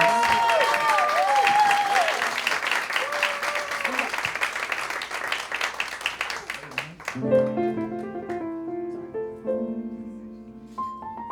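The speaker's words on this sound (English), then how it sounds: "And this is also an excellent time while you're still clapping to thank Mr. Bruce Barnes." Audience applause at a live cabaret concert, a full crowd clapping loudly while a person speaks over it, then the clapping fades out as sustained piano chords ring in.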